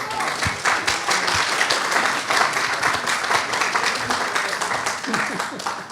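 An audience applauds at a regional awards ceremony, dense sustained clapping from a large crowd filling the room evenly, loud and continuous.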